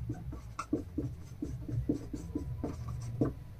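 The word newton is written out on a board during a lesson, a quick series of short, rhythmic scratching strokes close by with no talk over them.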